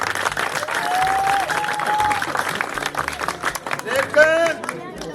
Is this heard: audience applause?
yes